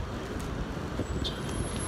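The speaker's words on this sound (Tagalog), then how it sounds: "Ang daming sasakyan." Street traffic hums steadily outside a building, with a continuous roadway rumble and passing vehicles under a warm, busy city atmosphere.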